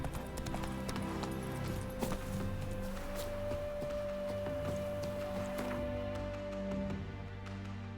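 Roach, the horse in The Witcher 3 on PS5, gallops with rapid rhythmic hoofbeats under a sustained musical score, steady and moderately loud for the whole stretch.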